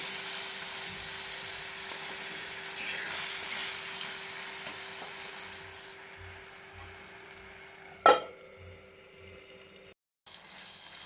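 Cut quail pieces sizzling in a pan, a steady close hiss that softens over time, broken by one sharp clatter and a brief dropout near the end.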